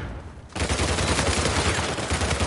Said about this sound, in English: Oh, he's trying to shoot me.